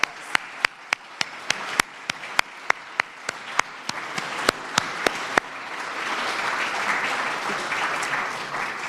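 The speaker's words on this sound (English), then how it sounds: "Let's give them a round of applause." An audience claps for members of the Legislative Black Caucus at a New Jersey Black Heritage Trail event. Sparse, sharp individual claps come first, then swell into steady, dense applause that fills the room.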